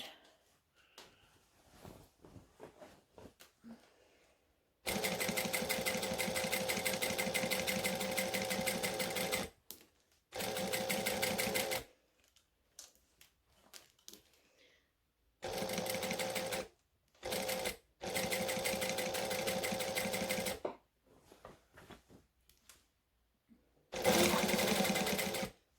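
A sewing machine stitches through bulky hoodie seams in several loud, steady bursts of rapid mechanical whirring, separated by short pauses and quiet handling noises.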